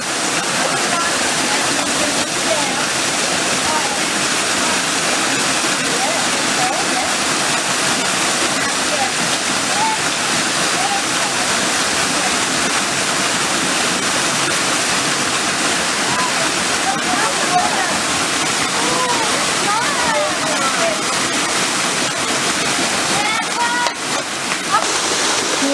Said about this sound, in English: Here we are at the second waterfall.